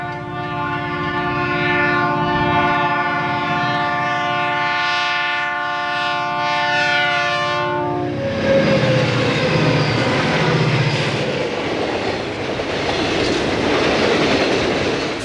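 A 1990s-era train approaching and passing close by, its loud sustained multi-tone horn blaring for about eight seconds before giving way to heavy rumbling and clattering wheels on the rails.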